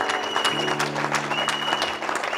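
A church congregation claps together in a dense, steady burst of applause that fills the room, with a sustained tonal hum, likely an organ or singing, running underneath.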